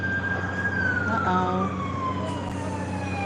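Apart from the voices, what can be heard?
ambulance siren passing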